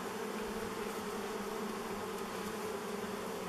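Dense, steady buzzing of many honeybees around a beehive left unopened for over thirty years, a continuous close swarm drone with no speech.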